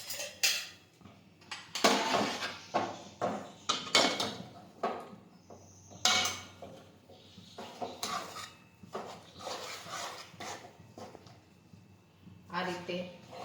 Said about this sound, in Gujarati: આ રીતે તાવીથું છે તે ફેરવતા રહેવાનું